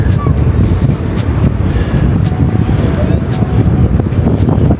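Strong gusting wind at a seafront baywalk buffets the microphone with a constant low roar, while someone talks over it close by.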